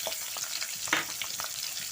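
Onion, green chilies and curry leaves fry in oil in a pan, giving a dense, steady sizzle and crackle with light stirring scrapes and one brief louder spatter.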